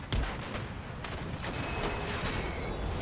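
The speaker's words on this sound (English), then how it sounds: "most of the cannon shots there are landing right in among their own troops" Cannon and musket fire in the strategy game Empire: Total War: a dense, continuous battle roar with repeated booming artillery shots and crackling volleys, steady and loud throughout with no voices.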